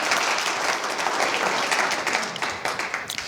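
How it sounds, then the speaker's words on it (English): An audience applauds at Hillsboro's 2023 State of the City address: dense, steady clapping that fills the room and thins into scattered claps near the end. "okay, clap one more time"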